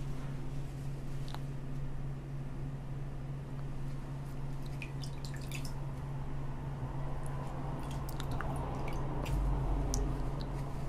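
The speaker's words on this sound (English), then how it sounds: "I'm just gonna wet this little cloth." A small cloth being wetted with warm water, soft drips and squishy wet sounds over a steady low hum, quiet and close throughout.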